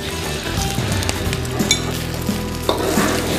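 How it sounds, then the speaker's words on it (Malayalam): Beaten egg frying with curry leaves in a pan for South Indian fried rice, a steady close sizzle with scraping stirs and a few light clinks of the utensil against the pan. "അതിലേക്ക് നമുക്ക് ബീറ്റ് ചെയ്ത് വെച്ചിരിക്കുന്ന എഗ്ഗ് ഇതിലേക്ക് നമ്മൾ ആഡ് ചെയ്യും"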